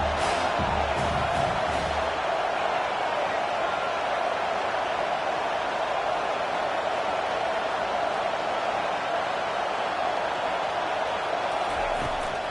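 Home crowd at a college football game roaring steadily through a third-down defensive stand, a dense, continuous wash of cheering that stays loud and even throughout.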